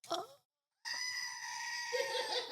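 A person imitates a goat bleat in a pub setting with a long, strained, wavering nasal cry held for over a second after a brief pause. Other voices can be heard before it.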